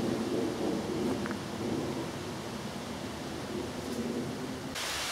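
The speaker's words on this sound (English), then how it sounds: "no sooner did I mention about the rain, now it's absolutely chucking it down" Heavy rain pours down on a countryside walk near Battle, a dense, continuous rushing wash close around the listener, with a low rumble underneath and no voices.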